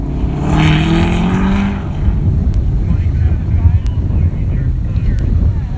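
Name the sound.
Corvette accelerating with tire spin in rolling exhaust contest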